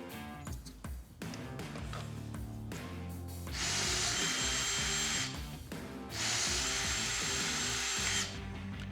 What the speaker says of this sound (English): we can begin to drill the outer holes for your dressing ring